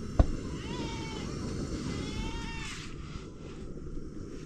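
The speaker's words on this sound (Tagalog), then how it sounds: "May kasama pa kami pusa mga kamising." A cat meows several times in a drawn-out, plaintive way over a steady background rumble at a house, fairly close and clear, with one sharp knock at the start.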